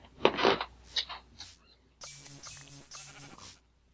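Sheep bleat in the Minecraft video game, a few short separate calls from nearby with brief gaps between them.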